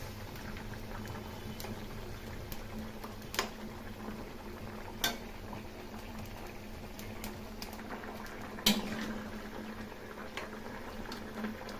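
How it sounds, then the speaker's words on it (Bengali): A Bengali fish curry with green chillies and fried fish simmers covered on a low flame, a soft steady bubbling with occasional faint clinks of a lid or utensil. "এখন লো ফ্লেমে ঢাকা দিয়ে কিছুক্ষণ রান্না করে নেব।"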